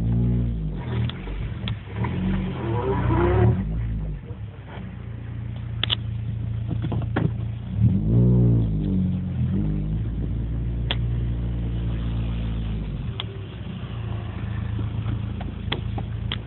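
A 2007 Honda Civic Si with a Borla exhaust and catless header pulls hard, its engine note rising through the revs in two surging runs before easing back; loud, close and steady, with no talking.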